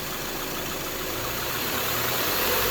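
A Subaru engine runs at raised RPM during air-conditioning charging, a steady, continuous mechanical hum and vibration with broad noise and no pauses or talk throughout.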